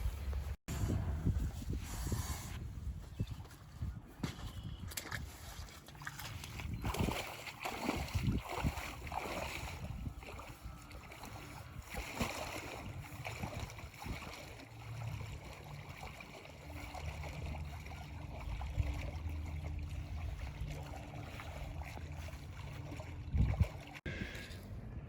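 Lake water sloshes and gurgles around legs wading out to set a floating 10-foot dock section in place on pink foam board floats, a soft continuous splashing with occasional thumps, fairly quiet and near.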